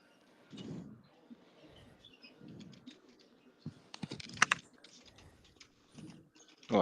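Computer keyboard typing comes as scattered soft clicks and short quick bursts of keystrokes, faint and close, with quiet murmurs and small noises between them.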